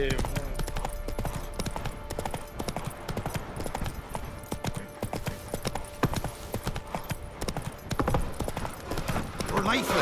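Steady clip-clop of the horse Roach's hooves in The Witcher 3, a continuous trotting rhythm close by with voices talking over it.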